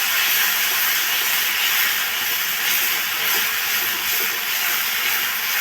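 Masala spices dropped into hot oil with fried onions and fish, a loud, steady broadband sizzle that hisses evenly throughout with no talking.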